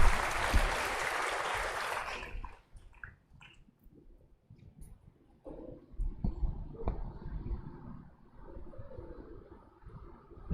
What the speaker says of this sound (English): Please welcome sir with a round of applause,